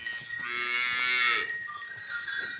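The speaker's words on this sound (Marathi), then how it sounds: "वासर आडायला लागलेत" Calves bellow loudly nearby, one long drawn-out call followed by shorter lowing, with no talk.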